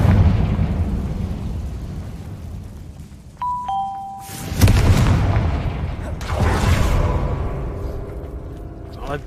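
Confringo spells go off in Hogwarts Legacy as two deep, booming explosions a couple of seconds apart, following a bright chiming cue. Spoken lines and game ambience run underneath.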